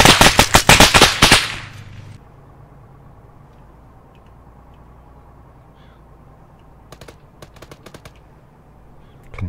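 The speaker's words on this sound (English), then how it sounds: "Can hear him shooting, I can't see him" Gunfire in an Arma 3 firefight opens with a loud, close, rapid burst of shots that cuts off, then a quiet stretch broken by a few faint, quick clicks.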